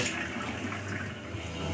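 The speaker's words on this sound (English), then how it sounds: "Rinse them with hot water." Hot water gushes and splashes inside a beer keg during rinsing, a steady hissing, sloshing rush with no breaks and no voices.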